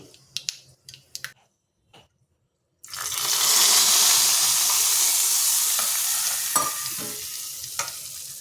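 Dry chilli pieces and asafoetida hit hot tempering oil for a Mangalore cucumber majjige huli: a few light taps, then a sudden loud, sustained sizzle that slowly eases, with occasional pops.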